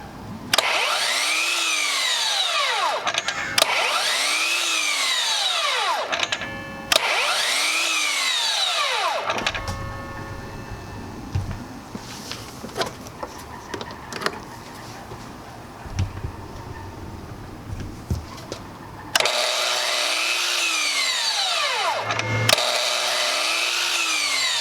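A 12-inch miter saw powered by a DEWALT Powerstation spins up repeatedly with a rising whine that cuts off abruptly, separated by a quieter stretch of clatter and handling sounds, then winds up again.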